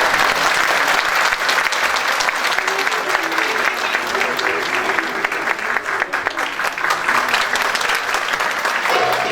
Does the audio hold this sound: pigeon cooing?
no